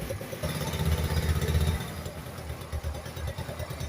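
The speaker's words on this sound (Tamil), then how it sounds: "இன்ஜின் சவுண்ட் நல்லா தான் இருந்தது இன்ஜின் வந்து சுமத்தாக இருக்குது" A new Safari motorcycle engine idling with a steady, rough chugging rumble at close range.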